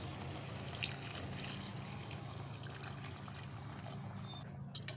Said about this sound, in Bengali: এখন এই মাংসের মধ্যে দিয়ে দেব 2 কাপ জল